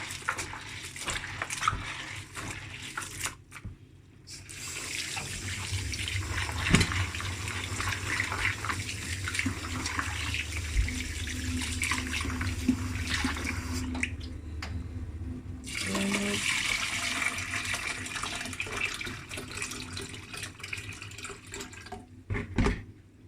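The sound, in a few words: washing soaked beans in water to remove skins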